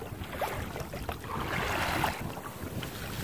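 A Hobie kayak fitted with a homemade sail moves through water, giving a steady rushing wash of water mixed with wind buffeting the microphone, building slightly toward the middle and then easing off.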